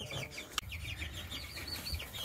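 Chickens cluck and chirp inside a chicken house, a steady chatter of faint calls with one sharp knock partway through.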